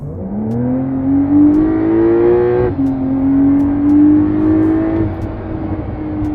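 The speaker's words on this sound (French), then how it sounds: "le bruit que la voiture va faire quand je vais accélérer de suite" A 2023 Porsche 911 (992) engine revs up loudly with a rising pitch, drops briefly as it shifts gear, then climbs again in a second strong pull, on the Côte d'Azur.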